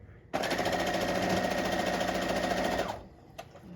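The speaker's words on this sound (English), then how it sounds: "So let's go ahead, sew it on." A sewing machine stitches a quarter-inch seam on a quilt top made of Tula Pink fabrics, giving one close, steady rapid rattle for about two and a half seconds before stopping.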